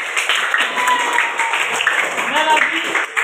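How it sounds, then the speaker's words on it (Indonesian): Group applause in a classroom setting, a dense burst of many hands clapping steadily for a few seconds, fairly loud and close. "terima kasih tepuk tangan untuk kelompok"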